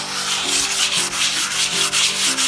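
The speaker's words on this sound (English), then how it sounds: "So I'm gonna start hand sanding this now." A 120 grit sanding block is rubbed by hand over black willow wood in steady back-and-forth strokes, a close, loud, rhythmic scratchy rasp repeating about every half second with no talk.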